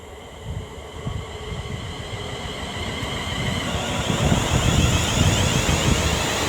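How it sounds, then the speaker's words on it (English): A West Midlands Railway passenger train on the West Coast Main Line at Marston Green draws nearer with a rising rumble and whine of wheels on track, growing louder toward the end, with some wind noise. "now approaching will be the 1438 West Midlands Railway service from Rugeley Trent Valley to Birmingham"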